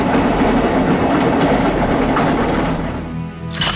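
Train cars rolling over rails inside the PS2 game JoJo's Bizarre Adventure: Golden Wind, a steady loud rumble with rhythmic clickety-clack, fading slightly near the end.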